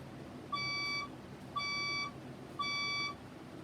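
Three evenly spaced electronic beeps from a red fire alarm, each about half a second long with a bright, tonal quality, sounding alone and fairly loud between evacuation announcements.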